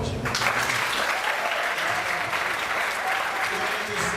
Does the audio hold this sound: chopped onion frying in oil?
no